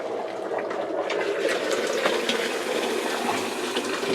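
Boiling water from a just-boiled kettle poured into a home brew, a steady close gushing splash that runs unbroken for a few seconds.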